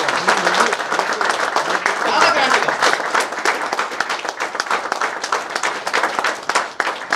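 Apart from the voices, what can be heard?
loud audience applause in hall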